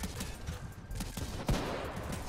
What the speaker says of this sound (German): Ich habe mich gerade mit meiner eigenen Granate getroffen. Granatwerfer.